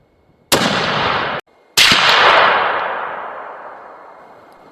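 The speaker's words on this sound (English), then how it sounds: "now that we've fired our shots and we got a zero" Two loud rifle shots crack out at an outdoor long-range shooting range, the second following about a second after the first, each with a long echo rolling away into the distance.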